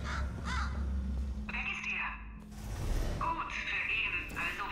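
A crow caws a few times inside the video game Portal 2, harsh repeated calls over game ambience, while a person talks.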